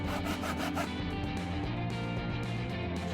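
Hand saw cutting through a wooden hoop for a shelf on a hanging tree house: steady, dense rasping strokes, close and loud, continuing without a break.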